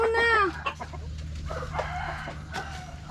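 A chicken calls briefly and loudly at the start outdoors in a forest during rain, a rising crow-like squawk followed by faint clucks over steady background noise.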